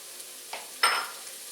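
Thinly sliced yellow onion hitting a really hot pan for a cheesesteak, a faint background hiss broken by a short scrape and then a louder burst of sizzle that slowly fades back down.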